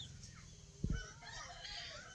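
Farmyard chickens give a short burst of clucking, a quick pair of low clucks over faint, steady outdoor ambience, fairly quiet and brief.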